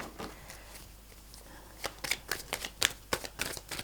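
Tarot cards being shuffled by hand, first a soft sliding rustle, then a rapid string of crisp riffling snaps close by, loud and alone.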